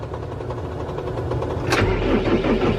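A tractor engine turns over in a semi-cold start on a farm. The cranking rhythm catches partway through and settles into a steady, close idle rumble.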